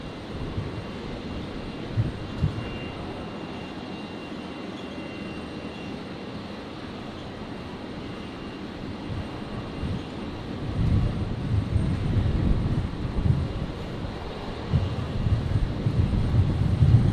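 A small business jet comes in to land on runway 01 right at Brisbane Airport, its distant hum swelling into a louder, rougher roar over the last several seconds as it nears.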